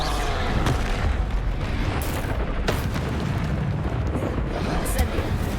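A Confringo spell goes off in the video game Hogwarts Legacy with booming, burst-like blasts over a dense, loud rumble of game sound, a sharper pop near the end.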